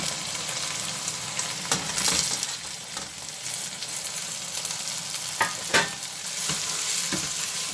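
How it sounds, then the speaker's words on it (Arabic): Tomato sauce sizzles in a hot frying pan while a spoon stirs it, giving a steady frying hiss broken by a few sharp scraping strokes, close and fairly loud, with no talk. "حطيت هنا معلقه كبيره من الصلصه اهي، واقلب كده"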